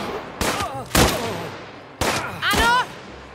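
Four sharp sniper rifle shots in Last Train Home, spaced apart, each a loud crack with a ringing tail, two close together, then a pause and two more.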